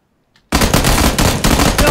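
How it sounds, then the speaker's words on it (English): Gunfire from a weapon in PUBG bursts in loud and close after a half-second of silence, a rapid automatic stream of shots that runs on with a couple of brief breaks. "I was shooting at them and the gun switched to single shot"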